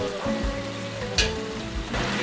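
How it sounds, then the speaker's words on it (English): Korean fried chicken sizzling in a deep fryer at a busy chicken restaurant, a steady dense crackle and hiss of hot oil with a few louder pops, no talk. "these Korean chicken houses are pumping out sizzling, fresh fried chicken for every day of the week"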